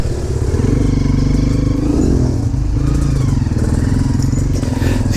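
A dirt bike engine crawls in first gear, a loud, close, steady low chugging drone that runs without a break and never revs hard.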